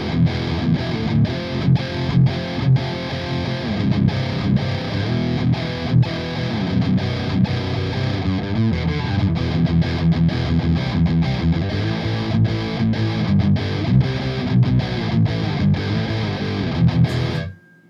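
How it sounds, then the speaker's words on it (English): Peavey Invective amp on its distortion channel with no noise gate, heavily saturated guitar riffing that runs steadily and loud for the whole stretch with rhythmic palm-muted chugs, then cuts off abruptly at the end. "So this is how the distortion channel sounds."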